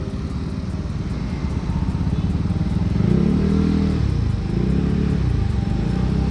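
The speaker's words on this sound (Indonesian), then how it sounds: "Ini suaranya kedengeran gak sih knalpot ya?" Honda PCX 160 scooter with a modified exhaust, a steady low engine drone with a rising rev swell midway, heard close and continuous with no talk over it.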